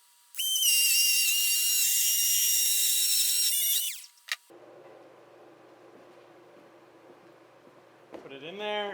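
A router mounted on a sled cuts a shelf groove in wood, a loud high whine running steadily for about three seconds before winding down, followed by a quieter low hum and a brief rising whir at the end.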